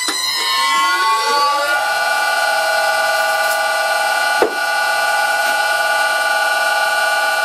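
A restored old lathe, spinning at 600 RPM, takes its first cut on a piece of metal. It starts with a rising tonal whine that settles into a loud, steady ringing hum, broken by one sharp click midway.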